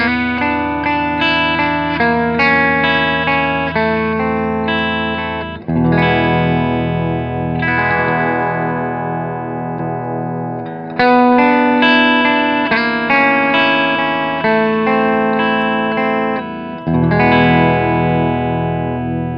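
A loud, overdriven electric guitar solo through a Hughes & Kettner Ampman Classic on the vintage channel with solo boost, sustained notes and quick runs with a thick, saturated tone, no talking.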